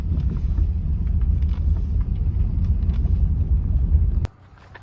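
Heavily loaded, low-riding sedan rolling along a rutted dirt road through West Virginia woods, a loud continuous low rumble with wind buffeting the microphone, cutting off abruptly near the end.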